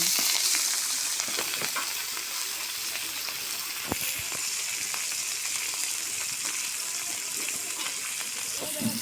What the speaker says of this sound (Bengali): মাছটা ভাজা হচ্ছে দেখুন বন্ধুরা আস্তে আস্তে করে ভাজা নেওয়া হবে